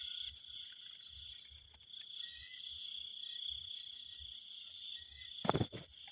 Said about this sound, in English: And this one is brown cricket.